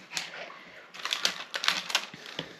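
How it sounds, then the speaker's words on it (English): A knife slicing pork sausage links into pieces on a board while making stovies, giving a quick series of faint, crisp cuts and taps close up, with no talking. "Cut each sausage link into 3."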